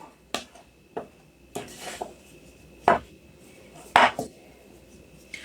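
A spoon mixing einkorn bread dough in a bowl, producing a handful of sharp knocks and taps against the bowl at irregular intervals, close and fairly crisp over a quiet background.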